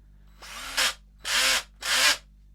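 A DeWALT cordless drill gives three short bursts of whirring, each ending in a rapid ratcheting clatter as the torque-setting clutch slips under pressure, separated by brief quiet gaps.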